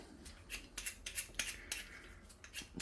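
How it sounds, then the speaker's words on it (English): Rapid scraping strokes of a hand peeler on carrots and parsnips for soup, a quick run of crisp, close rasps in irregular bursts with no talking. "Let's not waffle too much and do some rapid peeling."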